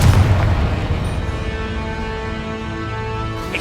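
A Confringo fire spell bursts in the Hogwarts Legacy video game, a loud, sustained low rumble of explosion that holds steady and then tails off, with a faint tonal hum beneath it.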